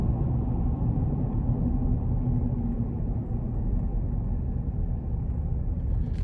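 Low, steady road rumble inside a moving 2024 GMC Canyon AT4X pickup with a 2.7 turbo engine, a constant muffled drone with no talking over it.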